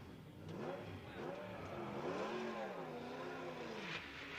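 A 1991 Mercedes race car pulls away from a pit stop at Le Mans, its engine revving up through rising and falling gears, loud and steady throughout.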